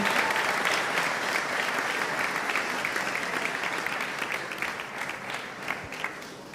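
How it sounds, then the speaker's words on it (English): Sustained crowd applause at a pizza awards ceremony in Milan, dense even clapping filling the room and slowly easing off toward the end. "A big applause. Let's welcome them with cheers."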